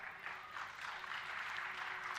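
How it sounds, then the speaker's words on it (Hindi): Applause from an audience at a Hindu Shrimad Bhagavat katha, a religious discourse, as a steady, dense wash of clapping that holds at an even level for about two seconds, with no voices over it. "क्या हुआ अभी जो आपने ताली बजाई?"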